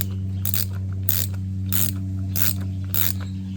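Allen key ratcheting while tightening a rear bump stop on a Mini Cooper S F56, five crisp clicking bursts at a steady rhythm, close and clear over a constant low hum.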